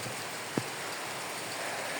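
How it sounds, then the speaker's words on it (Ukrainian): Steady, dense hiss of heavy rain pouring down, broad and constant, with one brief louder drop or knock near the start. "Не видно ліса, прям злива йде"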